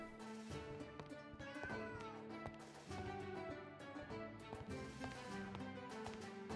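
Cat meows in the cozy tavern-management video game Travellers Rest, several short mews over a quiet background of game music.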